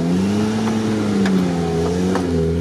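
A GAZ off-road vehicle pulls away on a jungle and beach route, its engine a steady, loud low drone with slowly rising pitch, close by and continuous with no voices.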